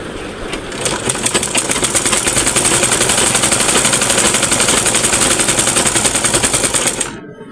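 Sewing machine stitching a salwar runs steadily and loud for about seven seconds with a dense rapid mechanical chatter, then stops abruptly, leaving near silence.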